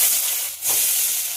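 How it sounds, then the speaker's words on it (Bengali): Chopped carrot and potato fry in very hot oil for pasta, a steady broadband sizzle and hiss filling the short span, dipping briefly midway before resuming at the same level. "গাজর আর আলু খুব ভালোভাবে ভেজে নেব"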